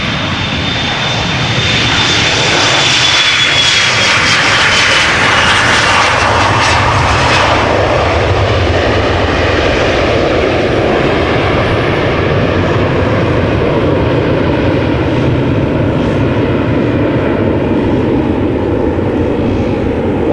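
An Embraer 175 jet departs Amsterdam Schiphol for Stavanger with a loud, close engine roar and a high whine that fades slowly as it climbs away.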